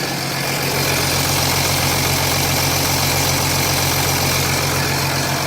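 Jeep Grand Cherokee 3.0 CRD diesel, a 2007 model, idles steadily up close with a constant mechanical rattle running through the engine note and no voices.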